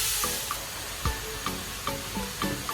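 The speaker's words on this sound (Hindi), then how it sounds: "सबसे पहले कढ़ाई में गाजरें डालेंगे और उनको भूनेंगे" Grated carrots fry in a kadai while being stirred, giving a soft sizzle with light scraping and tapping knocks repeating roughly every half second, close and fairly quiet.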